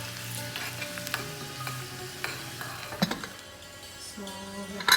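Chopped garlic crackles and sizzles as it fries to a crisp for palak daal, a steady hiss broken by scraping stirs and a few sharp clinks, with no talking.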